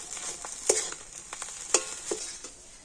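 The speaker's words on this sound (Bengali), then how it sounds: "এইভাবে হালকা জাল দিয়ে নাড়তে নাড়তে দেখবেন এই মিশ্রণটা কিন্তু অনেকটাই শুকনো হয়ে যাবে" A spatula scrapes and taps against a frying pan while a cauliflower filling mixture is stirred over low heat, with soft sizzling underneath and a few sharper clinks.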